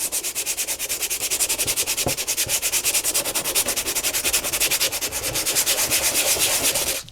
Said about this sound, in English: The second step is going to be get sandpaper and sand them down.